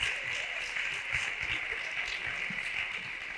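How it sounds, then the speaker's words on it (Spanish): Audience applause in a lecture hall, a steady wash of many hands clapping at moderate level throughout, with no one speaking over it. "Esto es lo único que habéis aplaudido."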